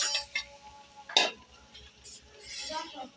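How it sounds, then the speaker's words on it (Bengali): A spoon stirs taro stolon curry with dried fish in a pot, giving several clinking scrapes of metal on the pan and soft wet sizzling, close and intermittent over a few seconds. "এই দেখুন আমি এখন লাড়াচাড়া দিয়ে দিব"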